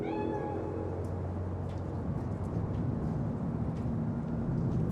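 A cat meows in the Cyberpunk 2077 video game, a few clear rising and falling meows at the start over a steady, loud ambient game background that continues alone afterward.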